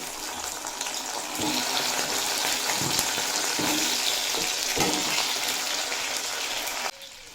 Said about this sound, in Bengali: এরপর এই তেলেই দিয়ে দেব কচুর মুখি